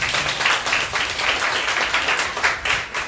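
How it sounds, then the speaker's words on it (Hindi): Loud, sustained applause from a church congregation during a Hindi sermon, a dense wash of clapping that carries evenly across the whole stretch with slight swells in intensity. "जोरदार ताली बजा सकते हैं।"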